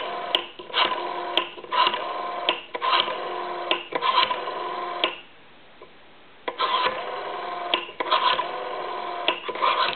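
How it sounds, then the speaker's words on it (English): An ITT rotary desk telephone with a replaced dial is dialed number after number, each return spin giving a quick run of ticking clicks, heard close and clear with a short pause midway. "We went ahead and replaced the rotary in this telephone, and we'll do our numbers now."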